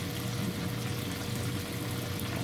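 Water mixed with cornstarch poured into a pan for gluten-free gravy, a steady soft liquid wash heard alone at low level.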